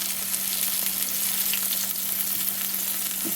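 Pork chops rubbed with flour, salt, pepper and garlic browning in a frying pan, giving a steady, dense sizzle that fills the whole stretch without pause, close and fairly loud, with a low hum beneath.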